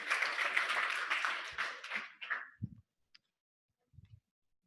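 Applause from a lecture-hall audience for a team of volunteers, dense clapping for about two seconds that thins out and stops, followed by a few faint thumps and near silence.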